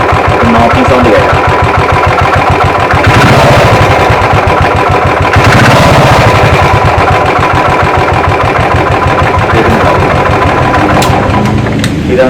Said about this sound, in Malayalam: ക്രാങ്കിൻ്റെ ബെയറിങ് പോയിട്ടുള്ള സ്റ്റാർട്ടിങ് നോക്കിംഗ് സൗണ്ടാണത്